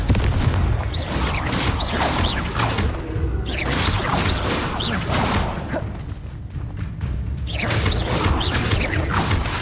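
The Confringo spell is cast again and again in Hogwarts Legacy, giving repeated whooshing bursts and booming impacts at a rough, uneven rhythm, close and loud, over a mechanical game backdrop.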